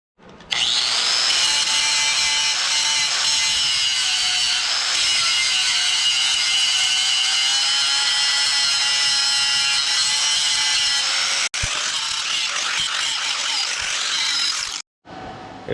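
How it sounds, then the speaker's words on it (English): An angle grinder grinds metal off a motorcycle carrier rack during a camper mod, a loud steady high whine running for about fifteen seconds with one brief interruption near the end, no talk. "So I'm going to grind this off so I can weld this piece here"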